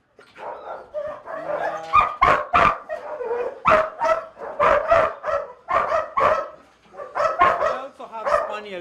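Several dogs at a Kenyan breeding kennel bark in quick repeated bursts, loud and close, with yips and a whimper mixed in while a person talks briefly underneath.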